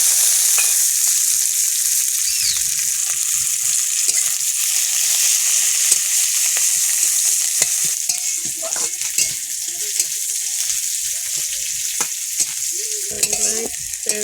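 Panch phoron spices, chopped garlic, onion and green chili sizzle and crackle steadily in hot oil. A loud, continuous frying hiss is broken by occasional sharp pops and stirring scrapes, with no one talking.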